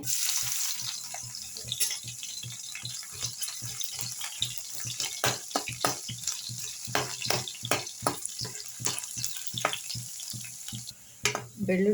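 Crushed garlic hits hot oil in a pan for a home-style red amaranth stir-fry, giving a steady close sizzle broken by sharp spattering pops and crackles throughout.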